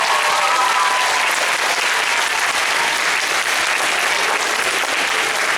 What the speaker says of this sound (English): Could we have one big round of applause for our whole class?